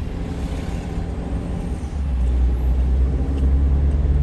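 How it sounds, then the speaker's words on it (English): A truck engine hums steadily at night in Wilmington, North Carolina, then its turbo spools up into a louder, deeper drone that holds. "That turbo is the sweetest."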